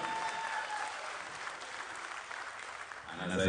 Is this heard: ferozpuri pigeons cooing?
no